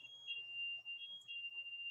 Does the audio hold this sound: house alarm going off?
yes